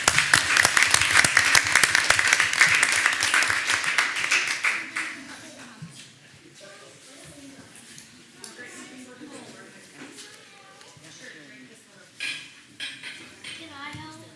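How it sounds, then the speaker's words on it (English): Attendees at a school board meeting give a round of applause, loud clapping for about five seconds that fades out, followed by quieter talking, children's voices and shuffling in the room. "Let's give them a round of applause again"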